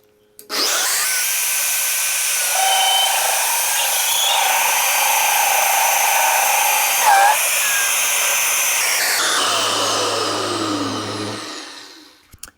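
A power drill bores into a scrap rack post, a steady loud whine running throughout with shifting pitch, then winding down near the end as a lower hum takes over.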